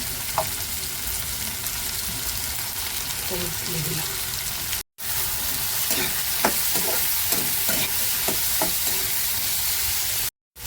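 Potatoes and onions sizzle and fry steadily in hot oil in a pan, with a spatula stirring and scraping in scattered strokes; a voice speaks briefly over the cooking.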